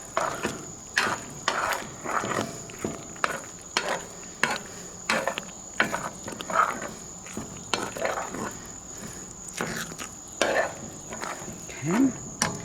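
Cooked noodles for smoked mac and cheese being broken up in a pot, with repeated close scraping, stirring and clunking of a utensil against metal in uneven bursts and faint sizzle underneath.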